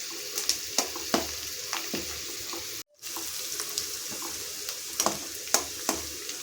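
Onions sautéing in a pan over a medium flame for an egg masala gravy: a steady close sizzle with scattered sharp spoon scrapes and clicks, briefly cut to silence midway, no voices.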